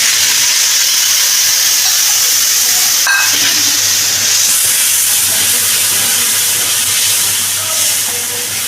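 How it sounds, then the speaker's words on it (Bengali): Spice paste for potol pasanda, a Bengali pointed-gourd curry, frying in a pan: a steady, loud hiss and sizzle that runs the whole time with little change, and there is no talking. "এবার আমি এটার মধ্যে এখানে যে পেস্টটা করে রেখেছি পেস্টটা দিয়ে দিলাম।"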